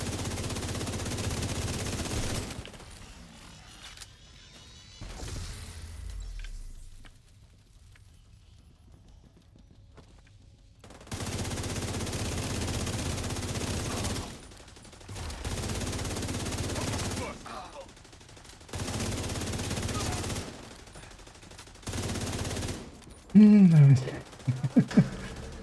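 Gunfire in a video game shootout comes in several long, rattling bursts separated by quieter gaps, fairly loud, with someone talking at times between them.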